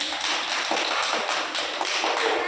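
Children clap their hands together in a steady, dense patter that runs the whole time, a close, bright flurry of overlapping claps with no voices.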